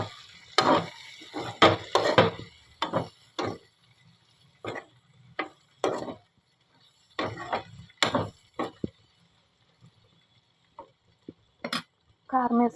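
A spoon stirring broad beans as they fry in a metal pan, with repeated sharp clinks and scrapes in irregular bursts and pauses, close up and fairly loud, with no talk.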